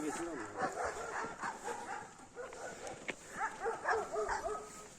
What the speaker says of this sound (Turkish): Köpekler avlamaya başladı yine.